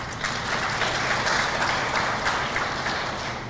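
An audience at a 30th anniversary event applauds in a sustained round of clapping that holds steady throughout without any speech.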